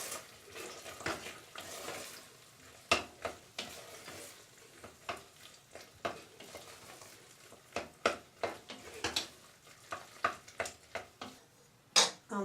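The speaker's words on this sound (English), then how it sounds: "Stir it in well." Macaroni cheese with leek being stirred in a pan, giving a run of quiet scraping and clinking spoon strokes in an irregular rhythm over a faint background sizzle, close by with no voices.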